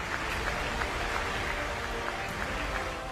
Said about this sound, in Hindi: अमेरिकी संसद में उनके भाषण पर जोरदार तालियां बजाई गई।